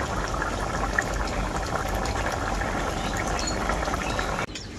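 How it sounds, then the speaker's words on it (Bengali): Lau chingri curry gravy of bottle gourd and water comes to a full boil in an uncovered pan, giving a steady, dense bubbling hiss close by that runs without pause, then drops away sharply near the end. "জল দেওয়ার পরে ঝোলটাকে আমি খুব ভালো করে ফুটিয়ে নিয়েছি।"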